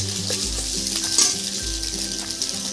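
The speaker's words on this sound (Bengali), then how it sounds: "ডিমটা ভাজা হয়ে গেছে, এবার নামিয়ে নেব।" An egg frying in a pan gives a loud, continuous close sizzle with occasional light scrapes and clinks of a utensil against the pan, with no voices.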